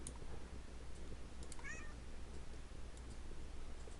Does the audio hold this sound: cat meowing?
yes